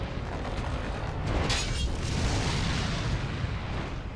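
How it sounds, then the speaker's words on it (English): Incendiary grenades going off in Resident Evil 4, a dense, roaring burst of fiery noise with a brief flare of crackle near the start, rumbling on at a moderate level with no talk. "I'm just gonna use the rest of these incendiary grenades"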